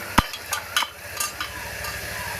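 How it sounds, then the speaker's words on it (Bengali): Vegetables fry with turmeric in a pan for vegetable khichuri, giving a steady low sizzle with a few sharp clatters of stirring spread across the clip. "এই যে ভাজা ভাজা করে একটু হলুদ দিয়ে দিলাম।"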